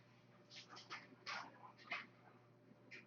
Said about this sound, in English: Yes, that dog is crazy.